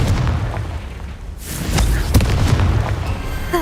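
A Confringo fire spell explodes in the Hogwarts Legacy game, heavy rumbling booms and bursts layered over continuous game noise, loud and close, with a short pause before a second blast.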